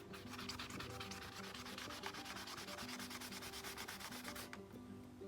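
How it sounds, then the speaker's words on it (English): Rapid, rhythmic scratchy rubbing of sandpaper along the edges of decoupage rice paper, steady strokes repeating quickly and continuing close up without any talking. "I'm just going to come and sand the edges"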